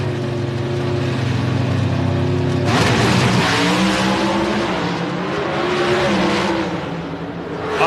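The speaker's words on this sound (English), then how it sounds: "Oh boy, what a drag race." NHRA drag racing cars at the 1994 Ford Quality Care Nationals, a loud continuous engine roar that surges sharply midway into a harsh, broadband blast before easing slightly, no talk.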